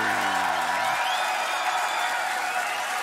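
A beatbox battle audience breaks into dense applause and cheering, a steady wash of clapping with scattered whoops that holds at even loudness throughout.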